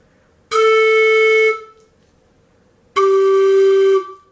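A low-pitched pan flute tube blown twice, each a sustained breathy hollow tone of about a second, close and loud, separated by a short silence.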